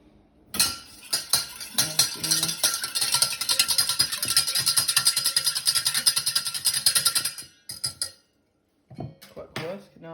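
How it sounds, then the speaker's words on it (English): A whisk clatters rapidly against a bowl as eggs are beaten for a carbonara sauce, a dense metallic rattling that runs continuously before stopping, followed by a few scattered clinks. "I'll just crack the eggs in, and then I'm going to whisk them"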